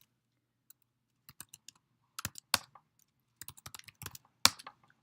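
Keystrokes on a computer keyboard while a command is entered for a Java program, heard as scattered bursts of clicks with short pauses, up close and fairly quiet, with no talking.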